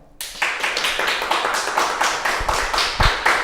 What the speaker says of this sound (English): So parents, let's clap for this wonderful program.